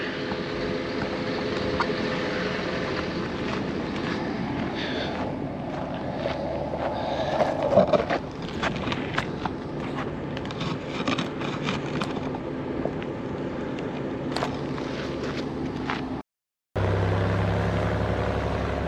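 A D6 dozer idles outdoors with a steady, rumbling diesel drone and some clanks and rattles on top, broken by a brief cut in sound near the end.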